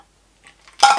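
Dark and stormy cocktail pouring into a glass already packed with ice, a short quiet trickle then a bright clattering splash and clink of liquid over ice cubes, close and alone.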